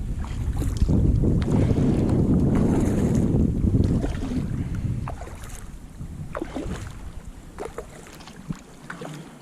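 A Pungo 120 recreational kayak is paddled on a Florida river, with water swishing and paddle strokes under heavy wind noise on the microphone, the wind easing partway through.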